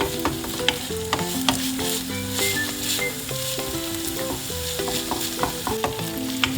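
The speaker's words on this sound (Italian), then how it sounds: "Ora aggiungiamo il nostro prosciutto, facciamo rosolare un pochino" Prosciutto browns in a pan for pennette, giving a steady close sizzle with stirring under continuous background music throughout.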